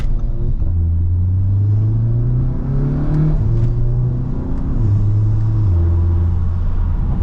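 An Audi S3 fitted with upper and lower engine mount inserts accelerates hard on the road, its engine droning loud and close as it rises through gears with two clear upshift drops, heard from inside the car.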